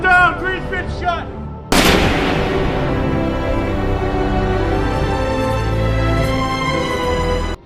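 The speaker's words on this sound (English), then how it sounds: "when Green was about to contact his superiors, Fowler got up and immediately shot him" A movie scene: a loud boom of gunfire cuts in after a short stretch of voices or shouting, followed by a long, dense, roaring rumble that carries on for several seconds.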